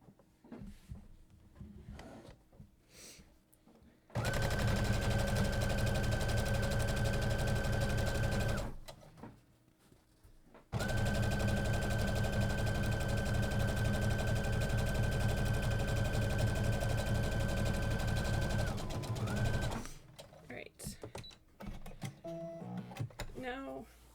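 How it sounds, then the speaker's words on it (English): A sewing machine runs top stitching along a tote bag in two long continuous bursts, steady and close, with quiet pauses and light handling noise before, between and after them. "let's do this top stitch"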